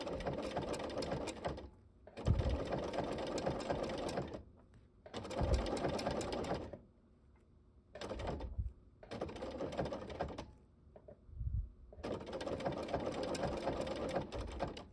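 A sewing machine blanket-stitches around an appliqué in several close, rapid, rhythmic runs of mechanical chattering, separated by short quiet pauses.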